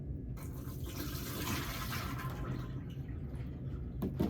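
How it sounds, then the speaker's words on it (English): Rinse water is poured from a basin into a sink after foot care, a sustained splashing gush that swells midway and ends with a few brief drips and knocks. "I'm going to pour the rinse water down the sink."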